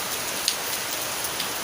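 Steady, close rain patters densely on surfaces with an even hiss and occasional sharper drops, with no voices.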